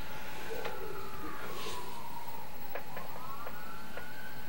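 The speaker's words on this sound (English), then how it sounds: "Police sirens." Police car sirens wail in the distance, the tone sweeping up and down behind a steady background hum.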